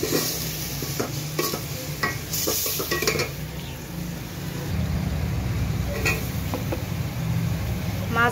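Washed cauliflower goes into a hot pan of cooked-down spices, setting off a steady sizzle with scraping stirs and clinks of a utensil against the pan.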